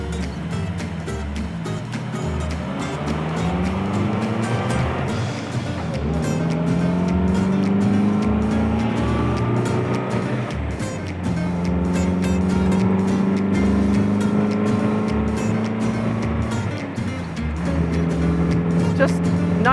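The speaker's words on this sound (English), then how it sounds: "This little 4-cylinder engine has dual carburetors, so it breathes pretty well" A small dual-carburetor four-cylinder engine in an MG TC hums steadily while driving, its pitch rising and falling through gear changes, with speech faintly underneath.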